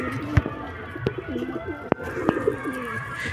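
Pigeons coo inside their loft in soft, rolling low calls under a few sharp clicks and knocks, a nearby paired bird repeating its throaty notes.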